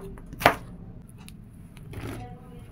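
A knife slicing vegetables lengthwise for soup, with one sharp, close cut early on and a softer cutting stroke later against a quiet kitchen background.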